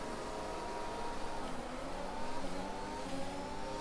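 An Aston Martin Formula 1 car accelerates off the start at Silverstone in the F1 2021 racing game, its high-revving engine note climbing through rising gear sweeps, loud and continuous.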